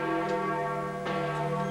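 Bells of St. Peter's Basilica in Rome toll loudly on the morning of the pope's funeral, sustained ringing tones overlapping with a fresh strike partway through.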